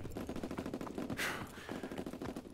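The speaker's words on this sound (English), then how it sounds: "We just need a combined gunfire like that." Machine gun fire in the video game Call of Duty WWII, rapid continuous bursts of overlapping shots with a brief louder blast in the middle, fairly quiet in the mix.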